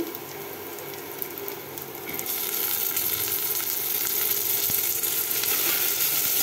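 Chopped onions frying in a pan get a load of tomatoes tipped in, and the steady sizzle swells louder and fuller partway through, then holds as a dense, continuous hiss with no voices.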